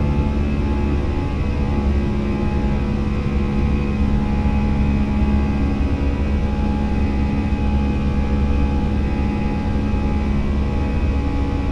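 Airliner jet engines in Microsoft Flight Simulator, likely a Fenix A320 departing Salzburg, hold a steady, loud, dense roar with a constant tonal whine throughout, without pauses.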